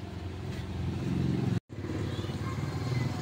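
An Astron washing machine under repair, faulty and needing a hand to spin, runs its motor with a steady, low electric hum that cuts out briefly and resumes, with talk in the background.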